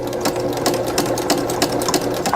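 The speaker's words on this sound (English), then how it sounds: "you're going to use your fingers and the speed of your machine to make sure that your fabric or your unit is sewn perfectly" A home sewing machine stitches a three-strip quilting unit of fabric, running in a steady continuous whir with slight speed changes, close and alone with no talk.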